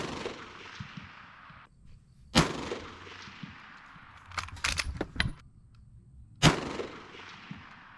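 An M1891 Carcano rifle fires 6.5 Steinel FMJ rounds on an outdoor range, two loud, sharp shots a few seconds apart with a burst of metallic clicks and handling noise between them.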